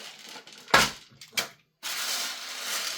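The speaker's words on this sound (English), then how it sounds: "we'll quickly whack some rounds in here to make sure it feeds" Sharp clicks and rattles of BB rounds being pushed into a KWA Masada gas blowback airsoft magazine, two distinct close snaps followed by a softer continuous scraping hiss.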